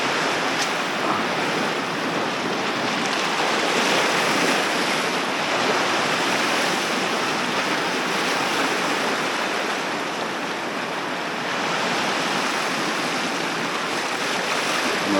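Rough sea off the Jamaican coast gives a continuous broad roar of surf and churning water, with wind noise buffeting the microphone and no voices.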